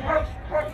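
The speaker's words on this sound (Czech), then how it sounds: "První akční ukázkou bylo předvedení dvou psů, cvičených na vyhledávání omamných látek a tabáku." Trained detection dogs, used for finding drugs and tobacco, give two short close barks during a demonstration, with a faint whimpering quality between them.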